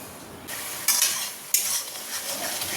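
Spice masala being fried and stirred in a pan for a potato curry tempered with curry leaves. A close hiss swells in sudden bursts with each stir, and a utensil scrapes the pan.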